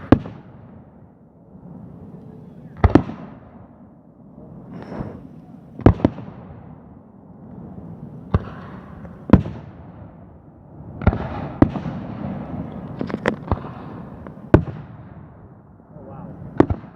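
Canada Day whistler fireworks going off at a distance, sharp cracks and pops scattered over a low rumbling crowd murmur, with people talking throughout.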